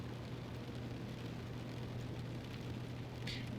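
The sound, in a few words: rain ambience in the video game The Stanley Parable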